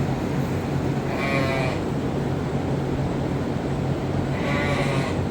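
Ewes bleating on a sheep farm, two clear calls about three seconds apart, moderately near, over a steady low rumble of background noise.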